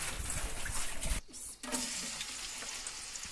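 Onions fry in a pan with a dense, steady sizzle and crackle, briefly dipping quiet for a moment before the hiss resumes at a moderate, even level.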